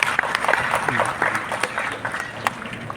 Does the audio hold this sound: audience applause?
yes